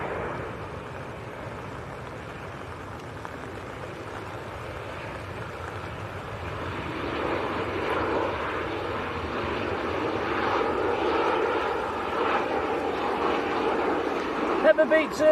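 A Ryanair airliner passes at Manchester airport, a broad engine roar that swells gradually over about fifteen seconds, steady and moderately distant.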